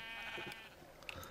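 Sheep bleat in a video game farm, a couple of wavering nasal cries heard close and fairly quiet, alone with no talk.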